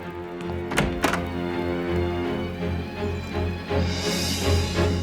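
Heavy knocks pound on a wooden door, a few loud thuds early on, over a low rumbling music-like drone that continues beneath.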